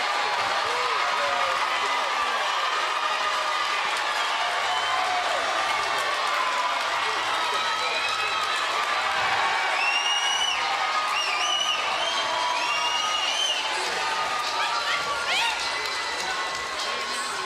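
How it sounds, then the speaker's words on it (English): A boxing arena crowd roars and cheers after a women's 168-pound championship knockout, a dense continuous wall of cheering, whoops and applause with whistles rising midway, loud throughout, and some voices mixed in. "And the crowd just loving it."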